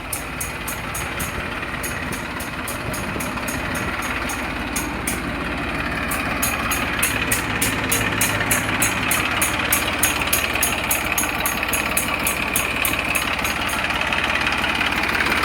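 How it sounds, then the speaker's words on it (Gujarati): New Holland 3600 tractor with a Simpson engine running at idle, a steady close mechanical drone with a rapid regular ticking clatter on top, growing slightly louder partway through. "સિમ્સન એન્જિન આવે."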